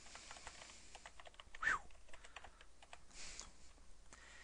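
Quiet keystrokes on a computer keyboard, a run of soft, irregular taps with one slightly louder cluster, heard alone at low volume.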